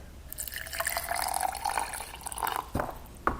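Kangen 9.5 drinking water pours into a glass holding a tea bag, a gentle filling trickle with a few distinct drips toward the end.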